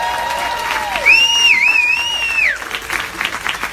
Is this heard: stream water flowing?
no